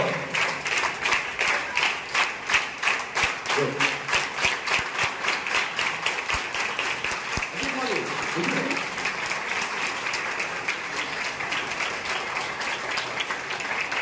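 Audience at a school prize-giving ceremony claps steadily and rhythmically, with the applause continuous and fairly close, and brief talk audible underneath.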